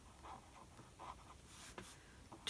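A pen scratches faintly on the paper of a Midori weekly planner, with short soft strokes and taps spread across a quiet, hissy room.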